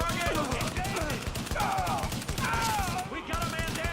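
Dense video-game gunfire in The Division rattles on continuously under a busy mix of in-game effects and voices, steady and loud throughout.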